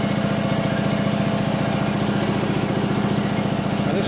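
A rotary cutter grinding inside a part of a 1941 Harley WLD 45 flathead stroker engine: a loud, continuous motorized whir with a rapid rhythmic buzz throughout.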